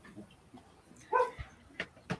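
A dog barks a few times from a distance, short faint yips and woofs scattered over a quiet background.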